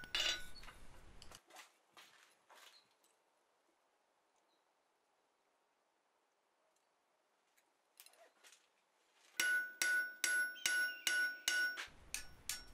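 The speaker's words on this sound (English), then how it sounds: "Dress the forged material with the flat face of your hammer and then check for an equal spread." Blacksmith's hammer striking forged hot steel on an anvil, dressing a miner's candlestick blank with the flat face: a few scattered taps early, a quiet stretch, then a loud, evenly spaced run of about six ringing metallic blows.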